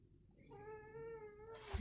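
A cat lets out a single drawn-out, steady meow nearby, ending in a brief rustle, with no talking.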